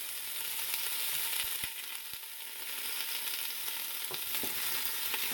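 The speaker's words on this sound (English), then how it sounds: "So just let that get good and sauteed somewhat." Ingredients for chicken noodle soup sauté in a pot, a steady close hiss and sizzle with a few faint clicks of stirring, and no talk.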